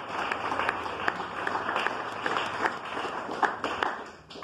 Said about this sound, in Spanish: Den un aplauso fuerte al Señor Jesús.